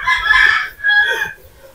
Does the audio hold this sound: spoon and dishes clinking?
no